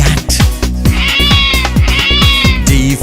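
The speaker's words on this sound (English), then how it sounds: "C for cat" Several bright cat meows ring out over a bouncy children's tune with a steady bass beat, close and loud, with one drawn-out meow near the end.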